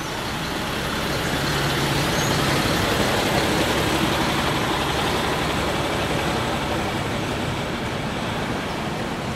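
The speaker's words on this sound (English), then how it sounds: "here's our friendly little tow truck again." A tow truck drives past outdoors, its steady engine and road rumble filling the scene at a constant, fairly loud level with no talking.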